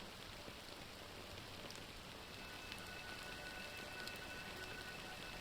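Fine black drizzle falling over the sea in Honkai Star Rail, a soft, even hiss of light rain pattering continuously on surfaces, with no voices.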